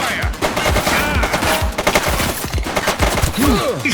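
A suspect fires a gun in The Precinct video game, a dense burst of loud, closely spaced shots cracking over a noisy urban scene.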